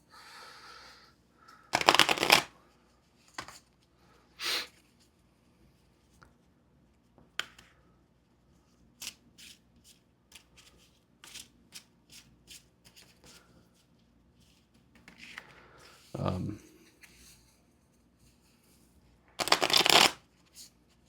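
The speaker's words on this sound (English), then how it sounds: "I'm going to shuffle the deck." A deck of cards is shuffled during a solo tabletop game session, with several loud riffling bursts separated by quieter pauses full of soft card handling and faint taps, close and fairly quiet overall.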